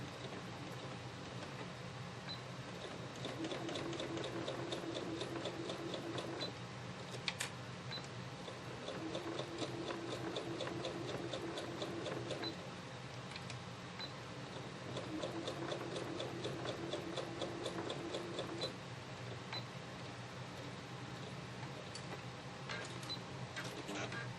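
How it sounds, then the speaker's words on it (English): A sewing machine stitches a quilt seam in several steady bursts, a fast rapid ticking whir that stops and starts, quiet and close. "Back to the sewing machine. Okay, let's sew this together."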